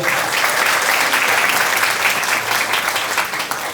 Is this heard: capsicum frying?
no